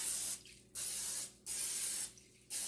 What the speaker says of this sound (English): You're going to spray the sides